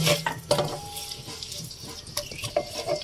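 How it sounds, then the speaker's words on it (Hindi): Two finely chopped onions fry in a pan for a creamy egg korma, giving a steady close sizzle broken by scraping stir strokes and light clinks, with no voices. "प्याज को हमें इतना फ्राई करना है कि इसका कच्चापन खत्म हो जाए"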